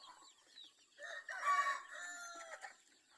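Chickens on a poultry farm cluck while a rooster crows in a short burst, moderately distant and fairly faint, with no talking.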